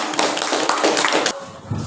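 A classroom of students clapping hands together, a short burst of quick, fairly close claps that stops abruptly, followed by a brief low thump.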